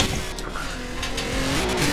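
Volkswagen Golf 4 GTI drifting in Forza Horizon 4: a loud, steady engine roar held at high revs with continuous tire squeal, swelling slightly toward the end, with no talk.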